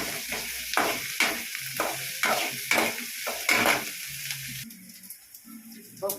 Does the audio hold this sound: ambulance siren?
no